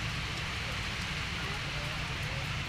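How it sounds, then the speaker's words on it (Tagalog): Rain falls steadily outside a home where laundry is being done, a faint, even hiss that carries on without pause while a voice speaks over it. "Naulan na naman."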